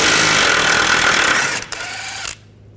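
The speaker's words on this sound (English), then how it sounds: "18mm socket, take this bolt out." Power tool spinning out a control arm bolt on an Audi A4 Quattro: a steady buzzing whir for about a second and a half, a brief stutter, then a shorter burst before it stops abruptly.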